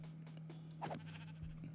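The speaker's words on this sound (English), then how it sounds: "Ooh. Sheep." A sheep in the Minecraft video game bleats once, short and clear, over a steady low background hum and faint game sounds.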